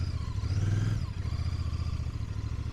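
A 2025 Royal Enfield Bear 650 twin engine pulls hard under throttle while riding, a loud, close, steady rumbling drone with a brief rise in revs near the start, heard alone without talk.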